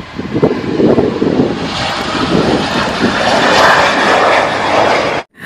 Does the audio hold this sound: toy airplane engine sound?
yes